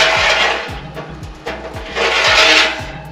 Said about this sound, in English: So you're just gonna slide it on just like this, and it actually slides back and forth.